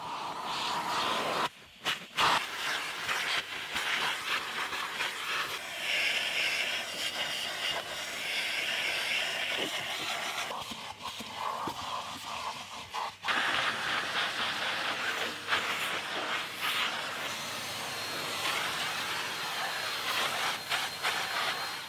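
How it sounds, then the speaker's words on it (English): A vacuum cleaner roars steadily and close by inside a VW Golf, its whine shifting as the nozzle moves over mud, sand and pet hair and briefly catches on surfaces. "the first thing that I did on this car was vacuum up as much of the loose debris as possible"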